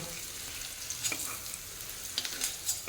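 Bitter gourd slices crisping in hot oil give a steady, fairly quiet sizzle, broken by a few brief scraping clicks as the pieces are moved about the pan; no one speaks.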